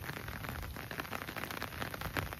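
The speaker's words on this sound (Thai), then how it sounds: "ฝนตก" Rain pattering down over a rice paddy during snakehead fishing, a dense, even hiss of drops on water and surfaces, steady and fairly soft throughout, with no voices.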